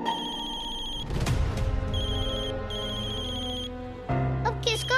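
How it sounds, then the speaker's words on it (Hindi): A phone ringtone rings loud and close during a Hindi TV drama scene, a steady repeating electronic melody that breaks off and then starts again. "अब किसका फोन आ गया?"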